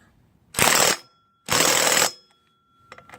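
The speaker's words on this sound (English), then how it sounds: "Let's go and hit that bad boy with impact again and tighten them down." An impact wrench tightens cylinder head bolts on a GY6 180cc scooter engine in two loud, rattling bursts of roughly half a second each, close up, followed by a few faint clicks.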